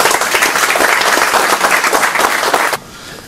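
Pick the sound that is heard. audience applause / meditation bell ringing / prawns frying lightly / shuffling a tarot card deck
audience applause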